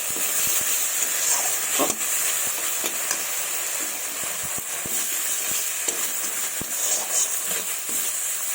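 Spice paste for a fish recipe frying in a pan gives a steady, close sizzle with a bright steamy hiss, broken by frequent sharp taps and scrapes of a spoon as it is stirred.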